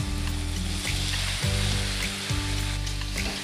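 Pieces of ash gourd frying with moong dal and spices in a pan, a loud, continuous close-up sizzle with stirring movements and a low steady hum underneath.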